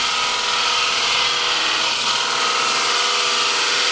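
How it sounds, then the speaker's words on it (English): A bowl gouge takes a fine finishing cut on a green timber bowl spinning on a lathe, giving a steady, dense, hissing scrape that stays loud and even throughout with no talking. "I'm just going to do one final very careful cut here with my bowl gouge."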